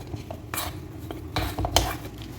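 A utensil scrapes and clinks against a bowl in a few short strokes while maida and wheat flour dough are mixed for crispy wheat potato stick snacks.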